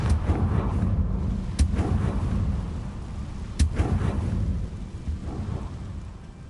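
A Confringo blasting spell cast in Hogwarts Legacy bursts twice as sharp, loud cracks over a constant rumbling, stormy backdrop, with softer thuds trailing after each blast.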